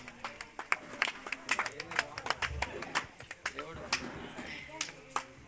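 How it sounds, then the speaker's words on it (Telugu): Scattered hand clapping from a small group at an outdoor gospel meeting in Koduru, uneven and thin, like only a few people joining in, with some voices underneath. "అందరు చప్పట్లు కొట్టి దేవుని మహిమపరుచుకుందాం."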